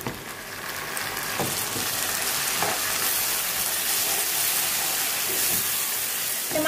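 Finely chopped tomatoes hit golden-brown onions in a hot pan, setting off a loud, continuous sizzle and crackle with small stirring clatters and no talking.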